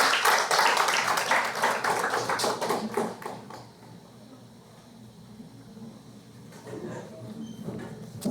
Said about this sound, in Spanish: un aplauso a nuestra querida hermana